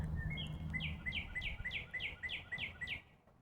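A northern cardinal sings in the evening: a run of about eight bright, clear, downward-slurred whistles repeated in a steady rhythm, fairly close, over a low background rumble.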